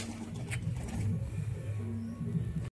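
Pigeons kept in a cage at feeding time give off low, soft cooing that stays close and steady throughout the clip, with faint rustling over it.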